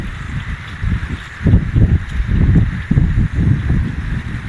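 Gusting wind buffets the microphone in low, uneven rumbling bursts, steady and close throughout.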